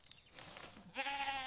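Goats bleating on a farm, with a wavering bleat heard after a few faint clicks and rustles, quiet and slightly distant.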